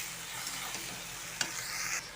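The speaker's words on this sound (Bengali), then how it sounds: "দিয়ে ভালো করে একটু নাড়বো" A spoon stirs raw jackfruit curry in a pan just after water goes in, a soft scraping swish over a faint low sizzle with one sharp clink partway through.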